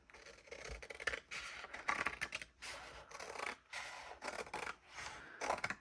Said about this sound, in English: So we're going to take scissors and cut this.